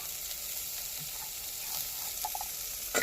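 Garlic and ginger sautéing in a hot pan, a soft continuous sizzle with occasional stirring scrapes and a sharper crackle toward the end, no voices.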